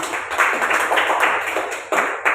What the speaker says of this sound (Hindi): हमारी आईएमसी के लिए एक बार जोरदार ताली होनी चाहिए।